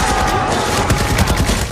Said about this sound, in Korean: 한편 병동에도 총성이 들리기 시작합니다.